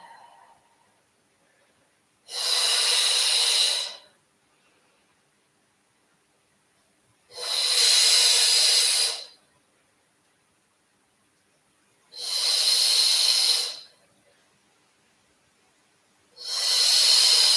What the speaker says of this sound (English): Starting to play with a nice audible breath as we wake up the internal energies.